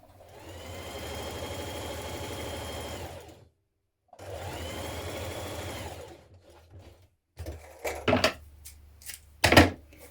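A sewing machine runs ease stitching across the top of a vintage 1970s wrap dress's shoulders, humming steadily in two long bursts with a short pause between, then a few sharp handling clicks and knocks at the end.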